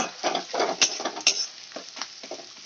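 Onions fry in a pan until reddened, giving a close, crackling sizzle broken by irregular stirring scrapes and soft ticks, with no talk.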